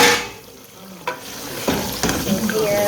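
Sliced tomatoes fry and sizzle in a covered pan during a home lunch cook in Ghana, a steady close hiss with a few brief knocks and scrapes, no talking.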